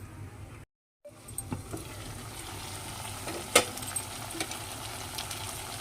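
Masala curry simmers and sizzles softly in a pan, a low steady bubbling with a brief silent gap near the start and a few light clinks of a utensil against the pan.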